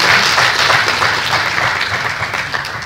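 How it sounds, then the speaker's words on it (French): An audience at a banking institute's opening session in Abidjan breaks into loud, dense applause, steady clapping from many hands that tapers only slightly over a few seconds, with no voices over it. "Je voudrais peut-être qu'on les applaudisse parce que c'est un beau travail."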